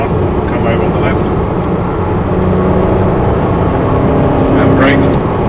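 A Porsche accelerating hard on a race track, its engine a loud, steady roar heard from inside the car with a constant drone of road and wind noise throughout.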